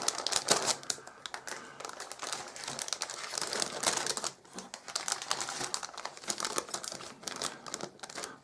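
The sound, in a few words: plastic bag of model kit sprues being handled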